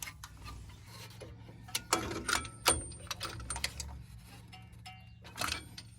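A stuck brake caliper piston on a Ford F-150 being pressed back by hand tool, with faint ratcheting clicks and metallic scrapes, quiet and close, with irregular bursts of mechanical creaks.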